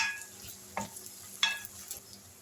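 Onions frying in oil with garlic paste stirred in, a soft sizzle under a few sharp scraping stirs of the spoon, close and fairly quiet.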